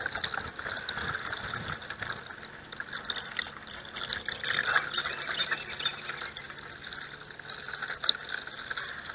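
A bleach and water mixture pours steadily into an RV's fresh water tank, a continuous close hissing, gurgling flow of liquid with no talking.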